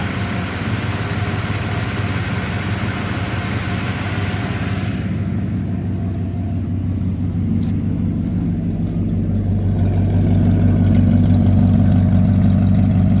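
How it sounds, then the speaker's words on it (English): An old-body-style Ford pickup truck engine with high mileage idles steadily with a low, smooth rumble, growing slightly louder and deeper toward the end; no voices. "Here that engine's running pretty smooth."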